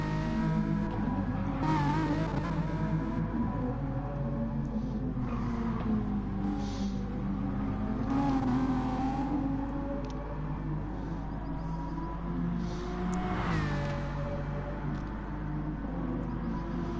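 A Gr.4 race car engine in Gran Turismo at Interlagos drones steadily throughout, its pitch rising and falling as it revs through the gears, with occasional surges and a brief tire squeal, loud and continuous.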